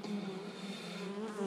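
Dense, steady buzzing of many honey bees close by at a hive, a continuous droning hum with no talking.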